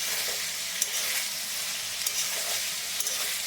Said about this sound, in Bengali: নাড়িয়ে চাড়িয়ে দিলাম